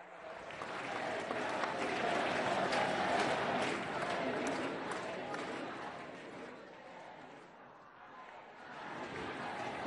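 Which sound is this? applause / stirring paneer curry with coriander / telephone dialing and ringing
applause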